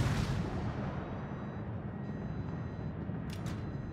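Heavy guns of a Tier 7 Scharnhorst '43 battleship fire in a World of Warships naval battle, a deep, rumbling blast that rolls on as a sustained low boom with no talk.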